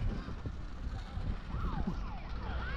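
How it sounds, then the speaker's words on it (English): A small vehicle's siren wails at a distance on an Almaty street at night, rising and falling sweeps emerging over steady traffic rumble and faint background voices. "There's a siren just gone off."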